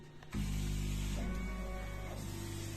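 A cutting machine slices cake boards 17 cm in diameter: a motor starts abruptly and then holds a loud, steady mechanical hum with faint higher whines running under it, close and unbroken by voices.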